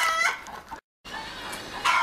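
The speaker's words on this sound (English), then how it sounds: "we got some chickens down the bottom of the garden, and Doggie's keeping an eye on them" Chickens at the bottom of a garden cluck close and clearly in short bursts, with a brief silent gap partway through.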